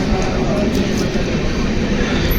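Steady rumble and rattle inside a moving passenger train carriage on the way to Madurai, a continuous broadband drone with no clear breaks or voices.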